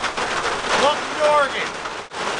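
Heavy rain pours down in Oregon, a loud, dense hiss on surfaces nearby. A voice speaks briefly over it.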